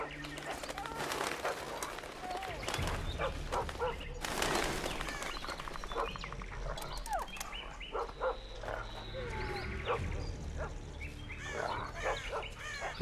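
A dog in the video game The Witcher 2 barks in short bursts amid chirping birds and cooing pigeons, the barks loud and close against a busy outdoor game ambience.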